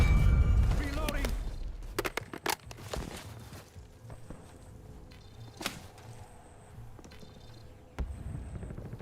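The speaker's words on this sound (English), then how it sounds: "Reloading." Weapon reload in the Call of Duty Warzone video game, a string of sharp metallic clicks and clacks after an opening burst, fairly close, with faint distant shots and occasional beeps behind.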